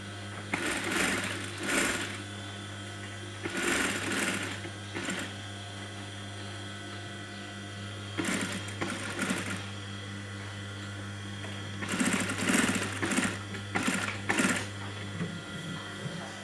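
An electric sewing machine stitches a kameez band collar in several separate runs of rapid mechanical whirring, each a second or two long, with quiet pauses between and a steady low hum underneath.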